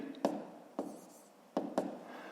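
Numbers being written by hand, four separate scratchy pen strokes in quick succession, close and quiet, with no voices.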